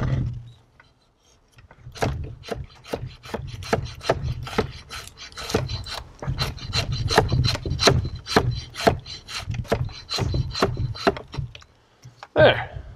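Wood being sliced into shavings with a blade in a woodland workshop, a steady series of about twenty sharp rasping strokes close by, ending with a brief louder scrape.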